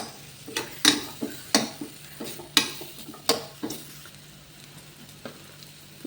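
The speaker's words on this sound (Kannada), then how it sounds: "ಇದಿಷ್ಟನ್ನು ಹಾಕಿ ಚಂದ ಮಾಡಿ ಸ್ಟರ್ ಮಾಡ್ತಾ ಇರಿ" Garlic frying in a steel pan while being stirred, with sharp scraping clicks every half second or so over a steady low sizzle, close and alone without talk.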